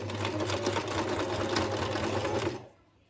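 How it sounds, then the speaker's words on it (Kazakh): Sewing machine stitching the shoulder seams of a sweatshirt, running steadily and loudly at a fast even rhythm for nearly three seconds before stopping abruptly into quiet. "Иық тігістерін, ең бірінші осы иық тігістерін қосып шығамыз."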